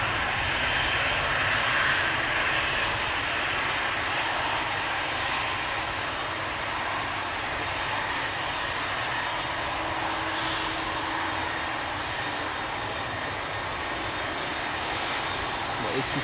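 An Airbus A350 passenger jet at Amsterdam Schiphol Airport, its engines making a steady, fairly distant roar that holds constant throughout, with someone talking over it.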